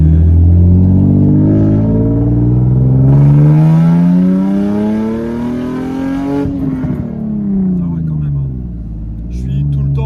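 Nissan 350Z roadster with a full straight-pipe exhaust revs hard, its loud rasping note climbing and falling through several sweeping revs, with people talking over it at times.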